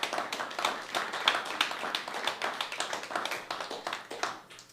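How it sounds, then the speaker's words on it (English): Audience applause at an open-mic storytelling night, dense rapid clapping from a room full of people, sustained and steady throughout with no talking over it. "Give yourself some applause,"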